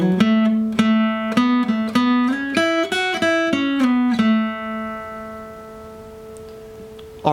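A clean lead guitar picks out the opening phrase of a song's intro solo, a quick string of single notes with hammer-ons that settles onto one long ringing note fading out, with no talking.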